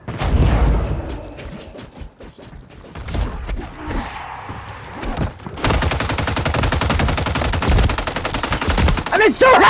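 Gunfire in the Warzone Zombie Royale game mode crackles as scattered single shots, then turns into long rapid automatic bursts that dominate the second half, loud and close.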